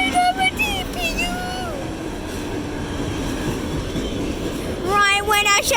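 An autorack freight train with a DPU locomotive passes, a steady mid-level rolling rumble close by, with voices talking at the start and end over the train noise.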